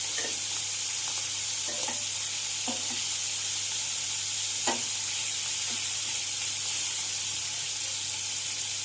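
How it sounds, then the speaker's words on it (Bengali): Prawns fry lightly in oil in a kadai as they are turned to cook the second side, giving a steady, even sizzling hiss with a few soft scraping clicks, with no one talking. "আমি আরও এক পিঠ উল্টি দিয়ে এরকম হালকা করে মাছগুলো ভেজে নিই।"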